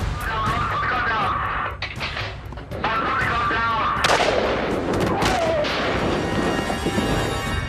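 A sniper's gunshot during a police standoff with an armed outlaw rings out amid a dense, loud mix of gunfire and commotion, with sharp cracks standing out over a continuous noisy background.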